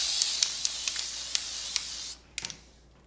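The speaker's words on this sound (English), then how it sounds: "It comes out with great force, which is another reason to spray at a distance." A loud, steady hiss of an aerosol can spraying for about two seconds, with faint clicks throughout, then it stops and a few small rattles follow.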